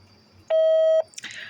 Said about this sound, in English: After the tone, please leave a detailed message with your name and number